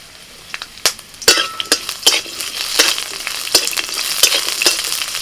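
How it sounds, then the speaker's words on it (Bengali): Ginger, garlic, whole peppercorns and green chillies frying in a little oil in a wok, a close crackling sizzle broken by sharp stirring scrapes and light clinks of the spoon, no voices. "কড়াতে সামান্য পরিমাণে তেল দিয়েছি আর ওর মধ্যে দিয়ে দিচ্ছি আদা রসুন গোটা গোলমরিচ লঙ্কা কাঁচা লঙ্কা"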